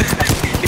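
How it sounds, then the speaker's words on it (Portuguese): Rapid burst of gunfire from a ship in Apex Legends, a quick run of several punchy shots fired in fast succession, short and fairly loud. "Acho que deu um tiro da nave ali"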